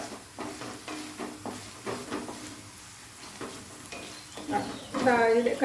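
Paneer curry masala sautés in butter over a high flame, giving a steady sizzle broken by repeated scraping and stirring strokes of a spoon in the pan, growing louder toward the end.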